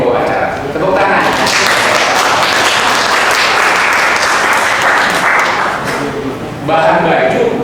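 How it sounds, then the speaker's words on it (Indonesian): A crowd at a small-business training event breaks into loud, sustained applause that rises quickly, holds for several seconds and then eases off as a voice returns. "Tepuk tangan"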